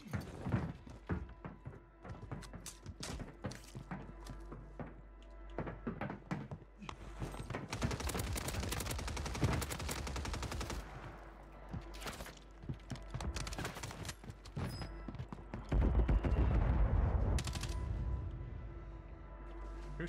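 Call of Duty gunfire on Rebirth Island in a Resurgence match, with rapid bursts of shots and thuds in an uneven rhythm, growing denser and louder toward the end.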